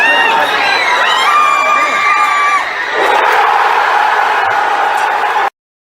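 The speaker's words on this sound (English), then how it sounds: "let me get the cheering up" A big crowd cheers and shouts as Australia seal an Ashes win at the MCG, a loud wall of whoops and high voices that briefly dips, then surges again before cutting off abruptly.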